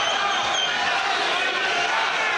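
Loud boxing fans cheer and roar in an arena during a heavyweight bout, a dense, continuous crowd din with a commentator talking over it.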